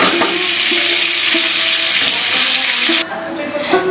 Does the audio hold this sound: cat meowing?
no